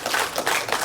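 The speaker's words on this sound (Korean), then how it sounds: "여러분 박수 한번 보내주세요" A short stretch of audience applause at a Korean entrepreneurship camp panel session, soft scattered clapping from a seated crowd, steady and brief, with no talk over it.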